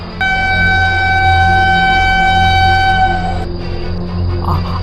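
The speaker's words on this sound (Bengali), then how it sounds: "ট্রেন আসছে।" A cartoon train approaching sounds a loud, sustained multi-tone horn blast over a rumbling low drone; the horn cuts off abruptly and the rumble continues.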